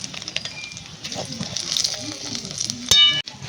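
Whole spices, bay leaves, cumin seeds and a dried red chilli, crackle and sizzle in hot oil for a Bengali tempering, a steady close frying hiss with a sharp pop or clatter near the end.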